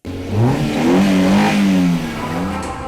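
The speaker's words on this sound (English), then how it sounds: "Gentlemen, start your engines!" Car engines rev loudly and steadily with a rising, wavering pitch at the start of a ribbon-cutting race celebration for a hospital's adult ER opening, sounding close and sustained for nearly three seconds with no talk.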